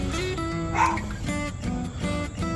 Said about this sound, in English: The dogs are getting rowdy back there.